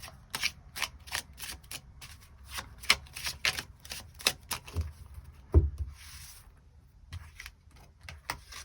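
Tarot cards shuffled by hand during a weekly reading, a run of quick crisp riffling bursts and soft slaps close to the mic, pausing near the end before a few more shuffles, no voice.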